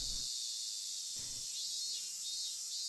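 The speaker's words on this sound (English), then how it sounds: "The cicadas were chirping outside" Cicadas drone outside in a video game scene, a steady, shrill insect chorus that runs unbroken and fairly loud throughout, alone without talk.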